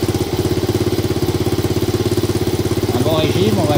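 A Honda Dax motorcycle's small single-cylinder engine idles after a kick start inside a garage, a steady rapid pulsing putter close by, with a voice speaking over it near the end.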